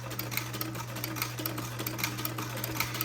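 A sewing machine with a buttonholer attachment stitches a buttonhole, giving a steady, fast mechanical patter over a constant motor hum.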